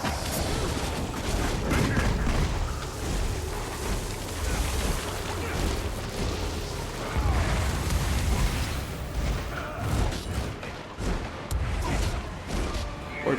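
Forge mortar battery explosions in Guild Wars 2: dense, continuous booming blasts and crackling impacts that pile up loudly throughout, with brief speech mixed in.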